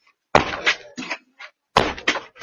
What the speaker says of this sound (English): then steps back and kicks the door hard